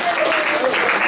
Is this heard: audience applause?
yes